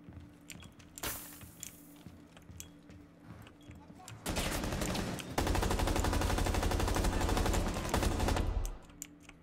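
Rapid automatic gunfire from a Rainbow Six match, starting around the middle and running loud and sustained for several seconds before cutting off, with scattered quieter shots and game noise before it.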